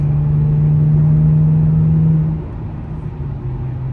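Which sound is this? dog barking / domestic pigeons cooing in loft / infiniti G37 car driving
infiniti G37 car driving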